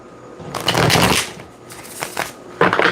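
Tarot cards shuffled close up in several brisk riffling bursts separated by short pauses, loud and alone.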